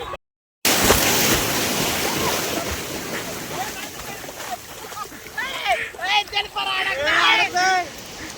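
Sea waves wash onto a Konkan beach with steady rushing surf and wind noise, close and loud, while voices call out and laugh over the water in the later part.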